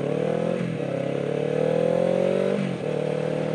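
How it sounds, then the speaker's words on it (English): A motorcycle over 400cc rides among car traffic on a rainy road in Taiwan, its engine droning loud and close with a steady mid-pitched hum that rises slightly and drops as it shifts. "my motorcycle being larger than 400cc enables me to ride out here with the cars"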